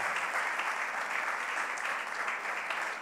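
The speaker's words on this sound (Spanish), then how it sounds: "Le damos un aplauso al Señor" A church congregation applauds at a worship service, steady dense clapping from many hands filling the space without pause, with no voices standing out.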